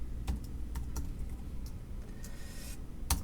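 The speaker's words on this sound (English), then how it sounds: "I can type all those numbers in" Clicks of typing on a computer keyboard as numbers are entered, a close, irregular run of key taps over a steady low room hum.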